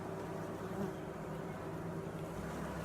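Honeybees from a swarm caught in a front yard buzz inside a wooden hive barely five weeks old, giving a steady, close drone that holds at an even level from start to finish.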